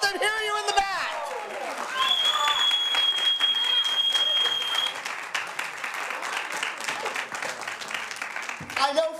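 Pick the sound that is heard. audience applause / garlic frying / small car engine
audience applause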